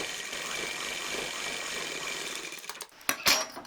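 A sewing machine runs steadily while stitching a frill frock, a continuous mechanical whir that breaks into a few short, sharper bursts and pauses near the end.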